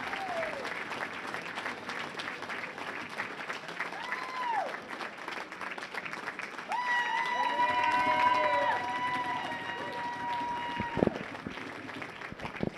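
An audience claps steadily for Team USA amateur bowling athletes in a bowling center, a dense, sustained round of applause with whistles and scattered cheers rising midway, and someone talking over it.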